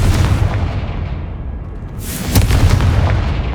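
Confringo fire spell explosion in Hogwarts Legacy, a loud rumbling blast with a dense noisy tail and a second sharp burst midway, close and heavy in the low end.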